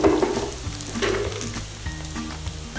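Bacon sizzles and crackles in a pan of rendered fat while it is cooked down for bacon jam, a dense, continuous close-up frying hiss with occasional stirring scrapes and no talking.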